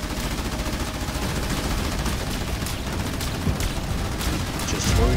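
Continuous battlefield din of artillery shelling and gunfire striking a base in the Halo Wars 2 real-time strategy game, a dense steady roar of blasts and crackling impacts throughout, with a heavier thump near the end.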